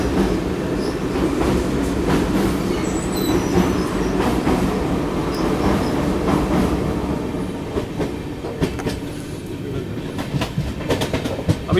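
The Gaya–Delhi Mahabodhi Express runs at speed, heard from inside a second AC coach as a constant loud rumble with rhythmic clatter of wheels and occasional faint squeals, with no talking.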